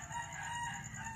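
A rooster crows over a steady low background near a farm where a chicken is being prepared for cooking, a short sustained call heard at moderate distance.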